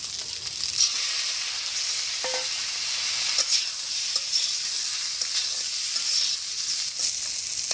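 Mustard fish sizzles in hot oil in a pan alongside pointed gourd in a village kitchen, a steady close frying hiss broken by scattered clicks and scrapes of stirring, with no talking.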